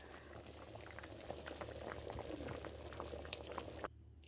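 Uncovered pot of crab and taro curry boiling, a steady close bubbling with scattered pops that stops abruptly near the end.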